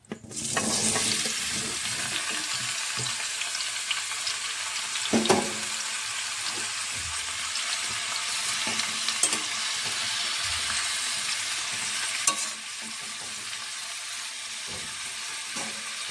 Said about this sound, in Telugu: ఇప్పుడైతే ఈ టమాటా ముక్కలు కూడా వేసేస్తాను